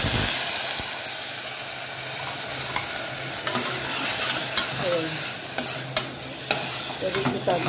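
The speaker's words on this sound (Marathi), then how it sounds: "त्याच्यामध्ये आपण हे वरी धुतलेले, स्वच्छ धुतलेले 2-3 वेळा वरीचे तांदूळ टाकूया।" Washed barnyard millet rice hits a hot tempering in a pan and is stirred, producing a loud, continuous hiss and sizzle with scraping and clinks of the spoon, no talk.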